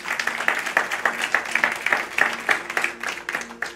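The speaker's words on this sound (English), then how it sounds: "Come on, let's clap about that." Congregation clapping during a church service: a steady rhythmic beat of claps in unison, moderately loud, with a sustained musical tone underneath.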